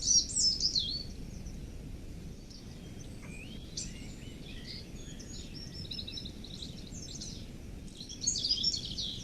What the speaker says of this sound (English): Little blue tit, number 3.